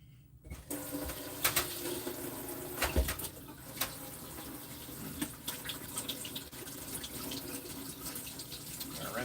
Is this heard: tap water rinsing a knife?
yes